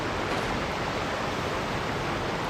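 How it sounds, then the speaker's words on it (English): A loud waterfall in the Genshin Impact video game roars as a steady, dense wash of rushing water, constant and unbroken. "Loud ass waterfall."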